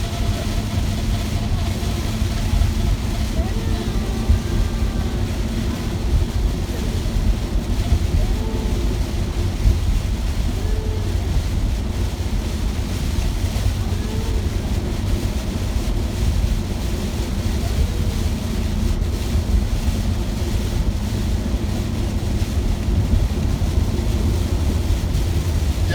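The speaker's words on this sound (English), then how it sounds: "Yeah, this is a tropical storm." Tropical storm wind and sea spray near a cruise port, a constant heavy roar of wind buffeting the microphone with surging waves and low rumble, steady and loud throughout.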